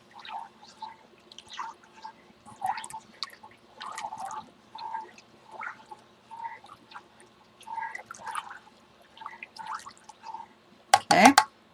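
A spoon stirs lace through a salted chemical dye bath, making soft intermittent sloshes, drips and squishy liquid movements in an irregular rhythm, followed by a brief louder clatter at the end.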